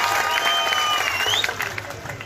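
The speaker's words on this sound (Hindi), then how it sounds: "इनके भी ताली बजा के स्वागत करता ये लोग।" A rally crowd at an Assam election event claps in welcome, dense steady applause with a few cheers, close and loud, with a faint high tone over it.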